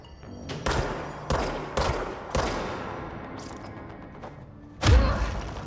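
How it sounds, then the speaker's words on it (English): Gunfire from a shotgun in the video game Control: four sharp, loud blasts in an uneven rhythm, each trailing into a reverberant tail, then a heavier booming thump near the end. "Hearing shots."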